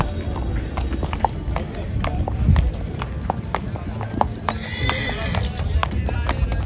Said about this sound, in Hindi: बहुत जबरदस्त है भाई घोड़ा